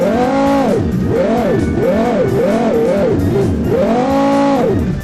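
A BMW E60 M5 V10 engine in a mobile car-crash driving game revs loudly and continuously, its pitch sweeping up and down in repeated rising and falling arcs, close and alone.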